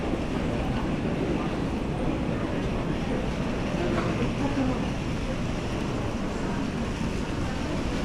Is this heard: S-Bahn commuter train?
yes